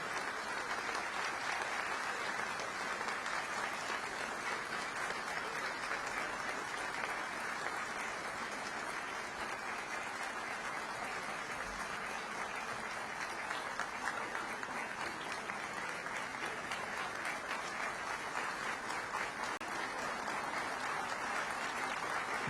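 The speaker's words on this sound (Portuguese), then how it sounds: "E idênticos aplausos são extensivos à senhora ministra Maria Tereza Assis Moura, presidenta do STJ" Audience applause at a ministerial swearing-in ceremony, a dense and steady clapping from many hands that carries on unbroken and evenly loud throughout, with no talk over it.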